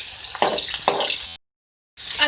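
Vegetables for an aloo palak, cauliflower and pea sabzi frying in a pan, a steady close sizzle that cuts out abruptly for about half a second before resuming.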